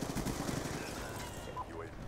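MSMC submachine gun fire in Call of Duty Black Ops 2 rattles as a rapid, dense stream of shots, fairly faint and mixed into game noise, tapering off near the end.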